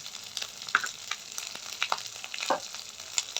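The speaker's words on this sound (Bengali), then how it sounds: "আদা রসুন বাটাটা আর পেঁয়াজ বাটাটা একটু কষাই নেব, ভালো করে একটু কষাই নেব।" Ginger-garlic paste and onion paste sizzle as they sauté in a pan for a prawn malai curry, a soft, steady frying hiss broken by a few faint spoon scrapes.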